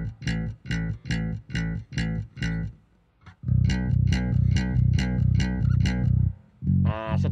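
MIDI bass line rendered with every note at equal velocity, a synthetic, evenly struck bass playing short repeated phrases, then a longer sustained run, close and loud with no talking.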